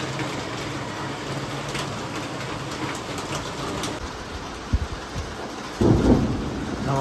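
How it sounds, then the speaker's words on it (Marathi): Heavy monsoon rain falls steadily, a dense hiss throughout, with low rumbles of thunder and a couple of brief thuds near the end. "पाऊस मस्त पडतोय यार,"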